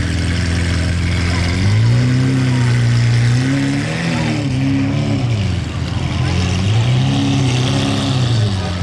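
Loud car with a non-stock aftermarket exhaust near the Monaco Grand Prix, rumbling in repeated rising and falling engine swells over steady traffic noise, no talk.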